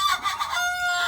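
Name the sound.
Sonali chickens clucking in a poultry shed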